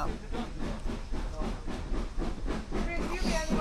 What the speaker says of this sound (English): We're on the steam train going from Swanage.